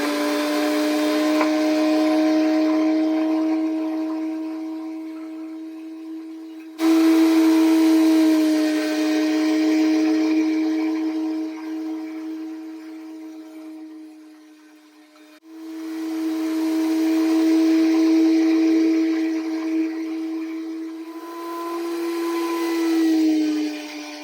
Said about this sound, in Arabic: هي ماكينة وطالع صوت بتضوج، اسمعوا